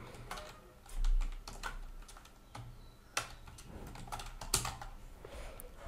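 Rapid clicks of fingers typing a command name on a computer keyboard while setting up a Discord custom command, with uneven bursts of keystrokes and a few heavier key thumps, close and clear with no talking.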